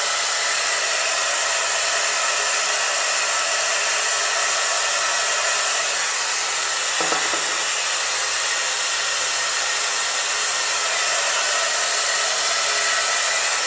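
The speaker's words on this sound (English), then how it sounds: "keep moving your blow dryer around and pulling on your brush" A hair dryer blows steadily with a loud, even whoosh throughout, briefly shifting pitch partway through.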